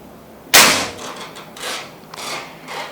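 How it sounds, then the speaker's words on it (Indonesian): A single sharp shot from a Bocap Predator 500cc airsoft gun, loud and close, followed by a few softer scraping and rustling sounds with no talk. "Tembakan pertama"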